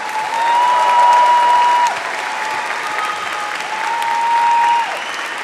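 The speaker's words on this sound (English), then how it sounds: "give Vu a big, huge round of applause" A large convention audience at MineCon 2012 bursts into loud, sustained applause that swells, dips slightly midway, then rises again, with a steady tone ringing faintly above the clapping.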